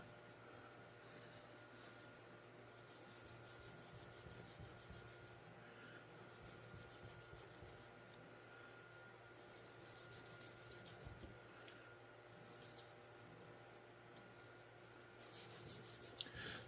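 Sandpaper rubbing steadily along the handle of a Ganzo G-743 folding knife, a continuous low scratchy rasp with brief pauses between strokes, close by and fairly quiet.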